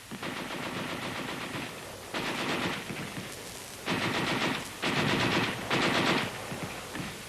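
A World War 2 heavy machine gun fires in long and short bursts of rapid rattling gunfire, loud and steady, with brief gaps between volleys in an old Army training setting.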